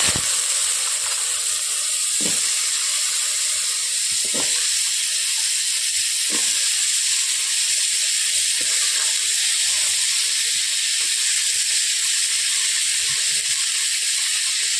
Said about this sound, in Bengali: কুমড়ো আলুগুলোকে আমি ধুয়েই কড়াইয়ের মধ্যে দিয়ে দিচ্ছি